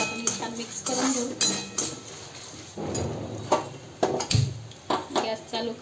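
Flattened rice (poha) tossed with salt in a bowl for Diwali chivda, with repeated clinks and scrapes of a utensil against the dish in an uneven rhythm, close and moderately loud, and someone speaking throughout.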